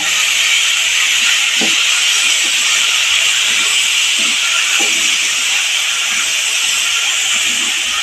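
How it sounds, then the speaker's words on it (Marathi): White cowpeas sautéed in a pan, heard as a loud, steady hiss of hot oil and steam running throughout, with faint intermittent scrapes of a stirring spoon beneath it. "दीडशे ग्रॅम चवळी आहे आपण हे परत चांगलं परतून घेऊया"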